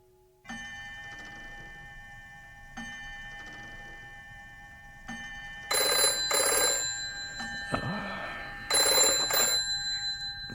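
An old-fashioned telephone bell rings in repeated bursts, loud and close, with brief pauses between rings and no voices.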